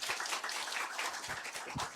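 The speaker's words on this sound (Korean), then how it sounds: "그럼 연사님을 뜨거운 박수로 맞아주시기 바랍니다." Hall audience applauding to welcome a guest lecturer at an economics talk, a steady, dense wash of many hands clapping, fairly soft and continuous throughout with no voices.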